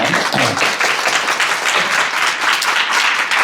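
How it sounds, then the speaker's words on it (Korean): A crowd at a lecture on North Korea applauds loudly and continuously as a former lawmaker is welcomed, dense clapping filling the whole stretch. "큰 박수로 맞이해주시기 바라겠습니다"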